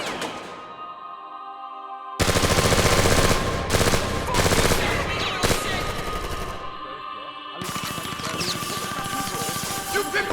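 Gunshots in a video game, loud rapid automatic bursts that begin after a quiet musical opening, with music underneath and brief breaks between volleys.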